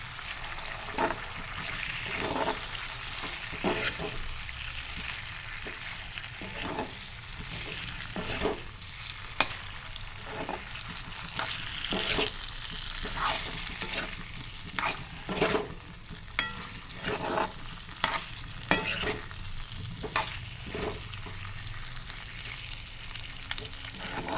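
Potato chips sabzi frying in a pan: a constant sizzle punctuated by repeated scraping clicks of stirring, irregular and close, with no talking over it.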